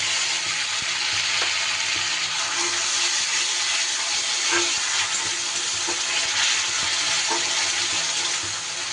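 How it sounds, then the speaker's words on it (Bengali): Ground spice paste hits onions already fried deep red in hot oil for a soybean curry, giving a loud, continuous hissing sizzle with occasional sputters and stirring scrapes, close up and with no one speaking. "পেঁয়াজ আমার বেশ সুন্দর লাল লাল করে ভাজা হয়ে গেছে এইবার মিক্সিতে যে মশলাটা পেস্ট করলাম সেটা দিয়ে দিলাম"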